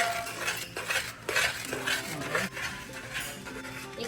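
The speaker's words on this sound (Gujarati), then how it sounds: "એક જ સાઈડે હલાવવાનું" A utensil scrapes and clinks against a pan as a ghee mixture is stirred on a gas stove, in steady close strokes with a faint sizzle underneath.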